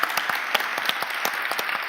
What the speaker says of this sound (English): so just a round of applause to everybody.